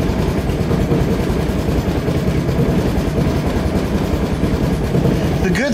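A 2004 Honda Reflex scooter engine runs steadily after a cold start at 14 °F, giving a rough, continuous low chugging drone heard close up.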